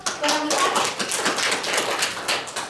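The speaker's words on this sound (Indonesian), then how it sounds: "Tepuk tangan dong." Classroom applause, a short burst of students clapping, close and rapid, lasting under three seconds.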